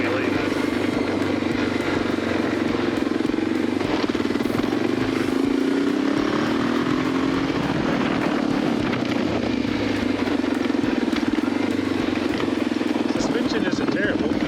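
Honda vintage dual sport motorcycle engine, an NX 650 or XR 650L, revving hard during a wheelie, a loud steady droning roar that rises and falls slightly throughout, heard close up from the rider's position.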